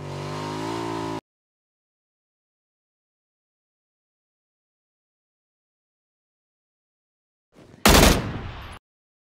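Video game gunfire arrives as one short, loud burst of rapid shots near the end. It comes after a long silence that is opened by a brief droning engine-like tone.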